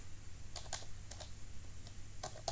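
Keys clack on a computer keyboard while a command is typed into a Linux server config file, a few quick scattered strokes in short bursts over a steady low hum.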